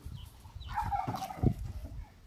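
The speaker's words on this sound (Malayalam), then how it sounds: "ഇന്റെ ഉള്ളില് ഡക്കുണ്ട്, കുഞ്ഞി കോഴിയുണ്ട്, കുഞ്ഞുണ്ട്, വലുതുണ്ട്" Chickens cluck nearby alongside ducks at a farm, a short burst of clucking calls over a low background rumble.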